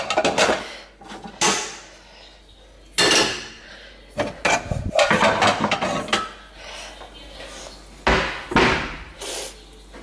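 A cooking pot is pulled back out of a kitchen cupboard, sounding as several loud metallic clanks and knocks with rattling in between and quiet gaps between the bursts.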